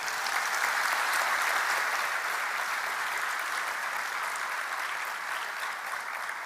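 A church congregation breaks into sustained applause, a dense even clapping that holds steady for several seconds and eases slightly toward the end.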